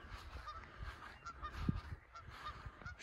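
A flock of geese honks outdoors at a Minnesota campground near Eagle Cliff, with repeated scattered calls at a moderate distance over wind and ambient noise.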